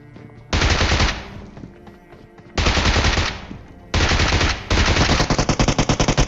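A Bizon submachine gun fires in a video game in three loud, close bursts of rapid automatic fire, the last one a longer run of distinct rattling shots.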